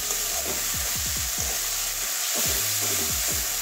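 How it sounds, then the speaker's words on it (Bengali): Ginger and garlic paste fries with turmeric in a hot pan, giving a constant loud sizzle while a spatula scrapes and stirs in quick repeated strokes, with a brief pause midway. "এবারে আদা রসুনের কাঁচা গন্ধ যাওয়া পর্যন্ত ভেজে নেব।"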